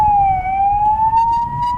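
An ambulance siren wails nearby, a steady slowly wavering tone over road rumble and passing traffic noise.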